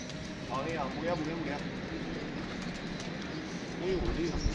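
A pigeon coos in a few soft, rolling calls, one near the start and another near the end, over a steady outdoor background hum.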